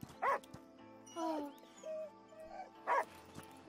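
Dog whimpering and yipping in the video game Last Day of June: several short, high, whining cries in bursts spread across a few seconds, fairly quiet over a low background hum.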